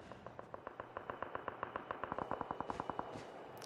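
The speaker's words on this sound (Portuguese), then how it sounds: "Eu ouvi tiros" Rapid bursts of automatic gunfire in a Call of Duty battle royale crack in a steady rhythm, dozens of sharp shots fired close and loud, with a brief pause partway through.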